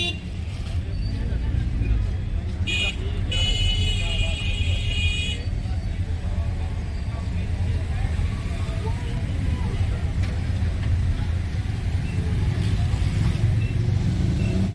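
Steady road traffic in a busy Indian street on the way to a fish market, a continuous low rumble of cars and buses with a brief high whine early on and faint babble of voices underneath.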